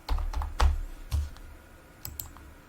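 Someone typing a password on a computer keyboard, a few close, distinct key clacks in an uneven rhythm, then two quicker taps near the end, quiet room, no speech.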